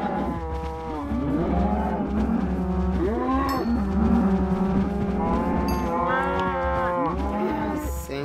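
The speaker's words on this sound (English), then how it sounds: "I think it's time that we breed the cows again." Cows in the Minecraft video game moo in several long, drawn-out calls that overlap one another, loud and near, over a faint background hum with no talk.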